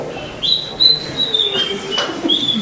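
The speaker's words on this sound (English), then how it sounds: "Now we hear sweet Polly Pierheart enter while whistling a merry tune." A melodic whistled tune in a theatrical skit, steady pitched notes gliding up and down, fairly close with a faint room backdrop, like a person whistling cheerfully while walking.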